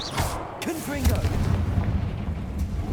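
A Confringo spell explosion in the Hogwarts Legacy video game: a booming blast with rumbling, crackling debris that sustains throughout, while a voice speaks over the top at the start.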